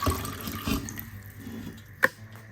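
Water is poured out of a clay pot after it has soaked for a day: a brief splashing gush at the start, a second pour, then a trickle and a single sharp drip or splash near the end.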